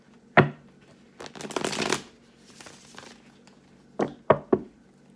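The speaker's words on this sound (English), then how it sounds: "One more shuffle." A deck of tarot cards being shuffled and split by hand, with several short riffling bursts and a few sharp taps of the deck, close and fairly quiet with no talking.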